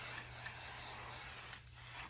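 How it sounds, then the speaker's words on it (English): Basting spray hisses from an aerosol can onto embroidery stabilizer. It is a continuous, fairly soft spray that keeps up steadily, dips briefly near the end, then resumes, heard close up. "I spray some basing spray on the stabilizer, not on the sweatshirt"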